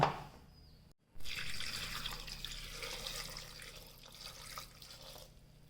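Water runs steadily into a pressure cooker, a continuous splashing pour close by after a brief silent gap, with no talking.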